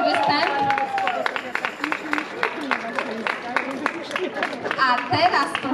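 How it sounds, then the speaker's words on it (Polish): Enthusiastic crowd applause for a wind orchestra from Lubraniec at a county wind band festival in Chodecz, dense clapping mixed with cheering voices and chatter throughout. "Gorące brawa dla orkiestry z Lubrańca."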